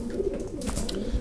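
Pigeons from a Romanian auction lot coo close by in one brief, soft, throaty burst with no talk.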